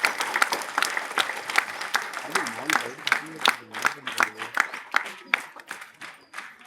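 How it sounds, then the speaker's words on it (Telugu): An audience applauds at the opening of a community arts stage, a brisk burst of hand claps that thins out toward the end while a voice speaks underneath. "స్వర్ణకుమారి గారికి, వాణిశ్రీ గారికి ఇద్దరికి మీరు చప్పట్ల ద్వారా అభినందనలు తెలియజేయండి"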